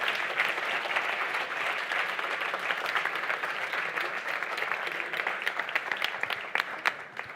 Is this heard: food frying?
no